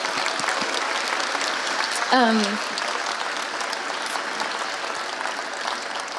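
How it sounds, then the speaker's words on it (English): Sustained applause from an audience at a live performance event, dense, steady clapping filling the room, with a brief vocal whoop rising above it partway through. "can we give each other and yourselves a round of applause, please"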